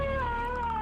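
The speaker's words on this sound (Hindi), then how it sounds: "कुत्ते बिल्लियों की रोने की आवाज़ें आने लगी।" A drawn-out animal wail in the style of a cat's caterwaul, meant as cats and dogs wailing in a horror story, rings as one steady, eerie, close tone over a low rumbling background.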